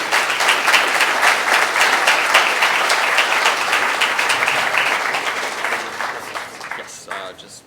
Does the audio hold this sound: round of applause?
yes